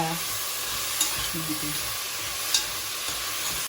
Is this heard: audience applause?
no